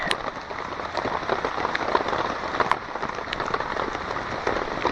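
Cold rain falls steadily on a backwoods campsite beside a campfire, a dense, even patter with scattered sharper drops close by, continuous and without voices.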